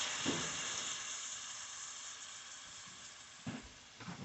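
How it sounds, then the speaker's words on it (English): Rinsed, drained corn sizzling in a hot pan for butternut squash and corn enchiladas, a steady close frying hiss throughout with a few brief louder pops near the start and end, no talking. "you can hear that great sizzle"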